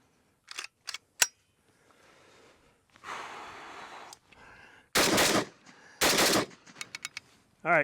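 An RPK rifle fitted with a Bulgarian magazine fires two loud, sharp bursts close up, with scattered mechanical clicks, handling noise and breathing before and between them.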